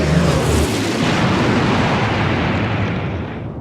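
A huge explosion as a bomber plane dives onto a tripod machine in a radio drama, a loud, dense roaring blast that fills the whole space and slowly fades, heard alone.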